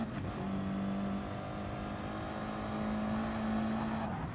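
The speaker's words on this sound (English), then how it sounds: "So you can hear those tyres scrabbling for grip." Tyres of a car in a racing game scrabble for grip at Suzuka, a fairly quiet engine drone with squealing tonal tyre noise rising in two stretches.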